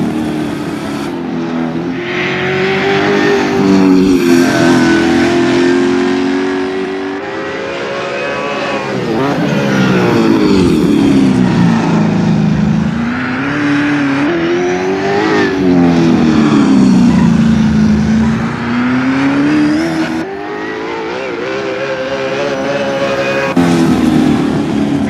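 Race cars lap the Westbank circuit, engines droning loudly and continuously as they rise and fall in pitch through gear changes, with a commentator's voice faintly under the noise.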